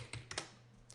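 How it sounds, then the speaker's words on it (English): A computer keyboard's keys are tapped a few times in quick succession, crisp and close, ending with a press of the return key, with no voices. "you can hit return on the keyboard"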